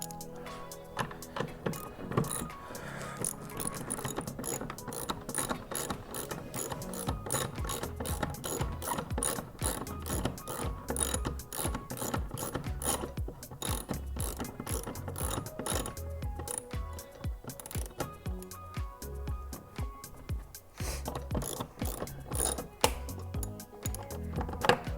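Ratchet wrench clicking steadily as ladder mounting bolts are tightened on a 2023 Land Rover Defender 110, rapid close pawl clicks in bursts with brief pauses, no talking.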